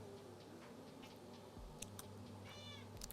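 A house cat meows softly a few times at close range in a quiet room. Light ticking and clicking sounds are mixed in, and nobody speaks.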